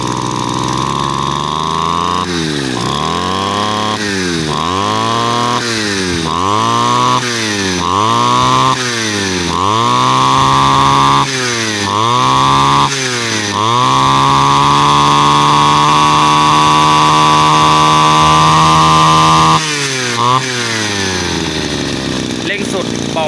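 A used grass trimmer engine, loud and close, revs in a series of short throttle bursts, then holds a sustained full-throttle whine for several seconds before dropping back and revving briefly again.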